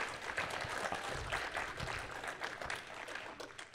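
An audience gives a round of applause, a fairly faint, busy patter of many hands that carries on for a few seconds at an even level.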